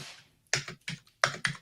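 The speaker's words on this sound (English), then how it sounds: "my typing on this keyboard is really getting loud" Several sharp keystrokes clack on a loud computer keyboard in clustered bursts with short pauses between them, close and crisp with no voices.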